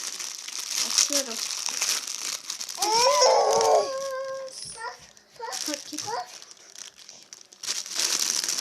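A package being opened with its plastic wrapper crinkling and tearing in bursts, mixed with a person talking nearby.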